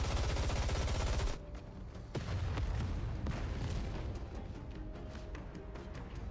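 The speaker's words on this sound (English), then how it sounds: "She thrusts her arm forward and a barrage of gunfire erupts." Dense barrage of gunfire in the game NIKKE as a character fires from her transformed arm, a loud continuous burst of rapid shots and booms that thins into scattered cracks and impacts.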